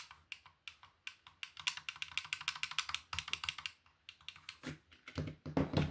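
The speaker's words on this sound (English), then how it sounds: "The buttons have some travel to them, slightly clacky." The buttons of an 8BitDo Ultimate 2C controller give rapid, clacky clicks, pressed in quick irregular bursts close up.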